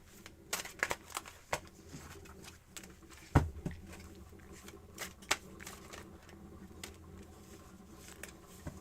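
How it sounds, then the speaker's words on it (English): A tarot deck being shuffled, quiet papery riffles and soft card slaps in scattered bursts with one sharper tap, close and low in level, with faint background noise and no speech. "And now we shuffle this deck here"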